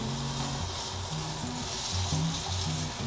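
Swordfish and tomato sauté over low heat in a frying pan, a soft, steady sizzle with faint crackles running throughout and no talking over it.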